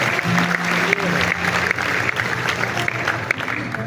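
Steady applause from a crowd at the Africa Food Systems Forum 2025 in Diamniadio fills the space, dense clapping that holds throughout with no break.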